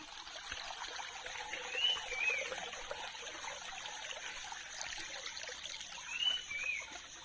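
Water trickles steadily along a forest stream path at Udayagiri fort, a soft continuous burble heard close by, with faint bird calls chirping twice in the background.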